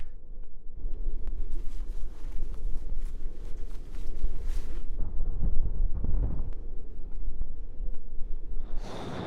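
Strong wind roars and buffets the microphone on a mountain climb up Ben Wyvis, a loud, continuous rumbling gust with surging intensity and no speech.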